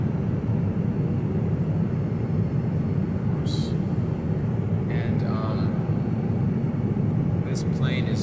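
Steady, loud low-pitched roar of an airliner cabin in flight aboard a Norse flight, unbroken broadband drone with a few faint clinks and brief sounds over it.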